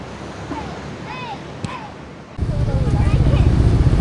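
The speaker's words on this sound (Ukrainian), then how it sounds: "Трішки побудемо тут на набережні біля моря" Waves and wind rush at the seafront, growing louder partway through into a steady surging roar, with faint bird calls above.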